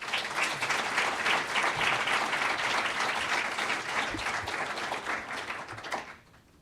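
Audience applause welcoming speakers to a university lecture on the crisis in Syria: dense, sustained clapping from a crowd that holds steady for several seconds, then thins and stops abruptly near the end.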